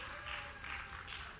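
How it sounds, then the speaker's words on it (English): Applause from an audience at a church-affiliated leadership event, a steady wash of clapping that holds at an even level throughout without swelling or fading. "A round of applause for him, please."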